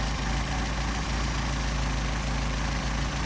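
Mercedes 190SL engine with Solex carburetors idling steadily, a loud, dense, even mechanical rumble close to the mic with no talking.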